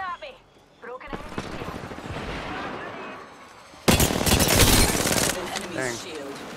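Gunfire in the Apex Legends video game: sustained automatic firing mixed with heavy impacts, growing louder partway through, with game voices and chatter over it.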